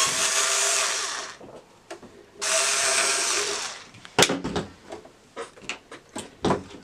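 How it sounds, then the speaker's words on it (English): Screws come out of the bottom of a Janome 2206 sewing machine, with two bursts of a whirring power driver followed by scattered clicks, scrapes and small metal clatter up close. "Now, we're going to go ahead and take out the screws on the bottom of the machine."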